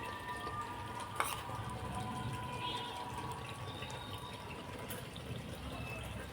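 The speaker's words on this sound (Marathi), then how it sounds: "मसाला छान तेल सुटेपर्यंत भाजून घ्यायचा आहे आपल्याला." Soft, steady sizzle of homemade masala roasting in oil in a pan for a village-style spicy country chicken curry, with a faint clink or two of a utensil against the pan.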